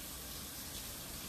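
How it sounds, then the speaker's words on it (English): Hot tap water streams steadily into a steaming kitchen sink, a continuous broadband gush at a constant level with no talking. "can you guys see the steam coming off the sink? That's some hot water going on"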